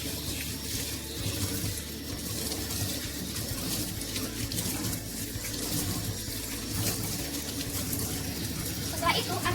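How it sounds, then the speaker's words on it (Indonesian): Tap water runs steadily as hands are rinsed up to the elbows under the flowing stream, a continuous close splashing rush that lasts throughout. "bilaslah kedua tangan menggunakan air mengalir hingga ke siku"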